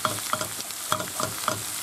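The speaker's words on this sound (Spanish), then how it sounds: "echamos sal para que sude la cebolla. Y lo movemos un poquito" Salted onion frying over low heat in a pan, with a steady sizzle broken by several quick scraping stirs at a regular pace, close and clear, no voices.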